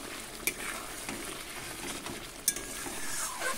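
Fried potatoes stir-fried in spice paste for a Bengali fish curry, giving a soft continuous sizzle with a few sharp spatula scrapes and clinks against the pan.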